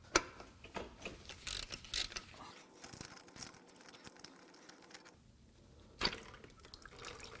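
A ratchet loosens the bolts holding the oil cooler on a 2019 Ford F-150 3.5L EcoBoost engine, giving short bursts of quiet clicking. A pause follows, then a sharper clack.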